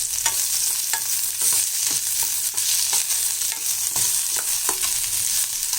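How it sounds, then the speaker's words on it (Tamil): Onions and curry leaves fry in a pan, a constant hissing sizzle with regular scraping and clinking as a spoon stirs them, close and loud with no talking. "இப்போ இந்த வெங்காயத்தை நல்லா வதக்கி விட்டுடலாம். இது கூட கறிவேப்பிலையும் போட்டுடலாம்."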